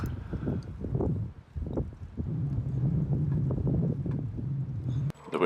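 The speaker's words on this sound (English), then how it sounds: "The wind was wild, though." Strong gusty wind buffeting the microphone while riding a bike uphill through a residential area, a loud low rumble that swells and drops unevenly, with no talking.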